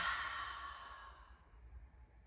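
Slow open-mouthed exhale during a yoga breathing exercise, a soft breathy sigh that fades away over about a second and a half, close and quiet with no talking.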